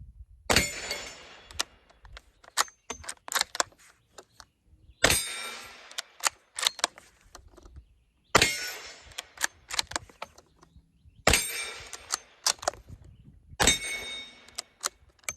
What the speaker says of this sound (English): shooting some Callaway Ballistics 38 special ammo with a suppressor that should be insanely quiet